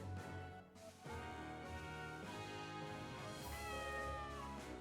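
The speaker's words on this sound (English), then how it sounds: "Meow? Ah, a cat." A cat meows repeatedly in the Story of Seasons Pioneers video game, a clear, close series of drawn-out, wavering meows heard alone.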